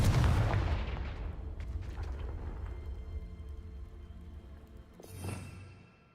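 A Confringo spell blast in the video game Hogwarts Legacy: a loud booming burst at the start that rolls off into a long rumbling tail, with a second smaller whooshing impact near the end.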